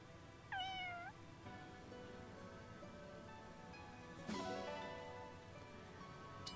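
A cat in the video game Fire Emblem Engage gives two clear meows, one early and one later, set over a steady bed of game music or ambience with no talk.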